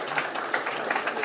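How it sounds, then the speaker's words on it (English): Audience applause in a room at a talk in Barcelona, a dense steady patter of many hands clapping at moderate volume for the whole short stretch, with no voices over it. "big applause"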